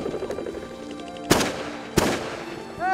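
Two sharp shotgun blasts during a South Dakota pheasant hunt, about half a second apart, loud and close over an outdoor background, followed by a brief rising whistle-like sound.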